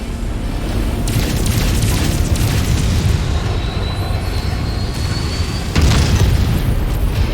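A heavy combat mech blowing up in Mechwarrior 5: Mercenaries, a loud sustained rumbling blast with crackling bursts and a fresh boom near the end, dense and close.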